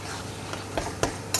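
Taro leaves with a hilsa fish head being stirred in oil in a pan, with a soft background sizzle and a few sharp scraping spatula strokes close by.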